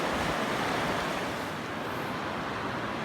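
Strong wind buffets a bridge over a river, a loud continuous broadband roar with gusty rumble throughout and no voices.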